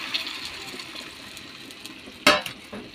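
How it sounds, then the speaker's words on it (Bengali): Water is poured into a simmering pot of Bengali fish curry made with salted mouri fish, a soft liquid splash under faint kitchen background, with one louder sloshing burst near the end. "পরিমাণ মতো জল অ্যাড করব।"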